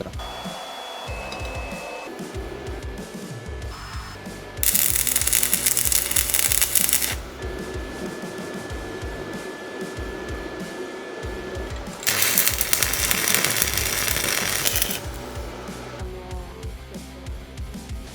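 APRO MMA 140 inverter welder arc welding with 3 mm and 4 mm electrodes, two loud crackling, hissing bursts of several seconds each, separated by quieter workshop background, close by with no talk.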